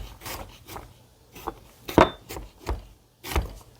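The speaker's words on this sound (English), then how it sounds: "So I'm just going to give that just a little bit of a chop" Fresh garlic cloves being roughly chopped with a knife on a board, a handful of soft irregular thuds and scraping taps, fairly close and quiet, with no talking.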